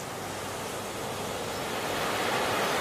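The fast-flowing Sutlej river rushes past in a dense, unbroken roar of churning water, loud and close, with no other sounds standing out.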